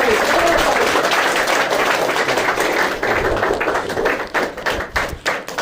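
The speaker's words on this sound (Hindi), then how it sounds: "एक बार जबरदस्त ताली बजाएंगे।" A seminar audience breaks into sustained applause, dense clapping that holds steady and then thins into uneven, scattered claps near the end.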